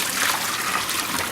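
Cold water pours steadily from a kitchen faucet into a sink during pasta cooking, a close, continuous splashing hiss with no talk over it.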